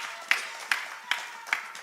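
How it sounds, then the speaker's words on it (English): Audience at a church men's event clapping in slow, evenly spaced single claps, four sharp hits about every 0.4 seconds, fairly faint and sparse in a quiet room. "Keep clapping till they come."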